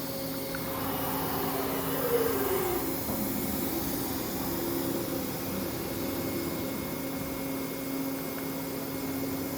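A MultiCam 5000 series flat table CNC router with ball-screw drive running a high-speed park, giving a steady, loud whirring drone with a faint motor whine throughout and a slight swell early on.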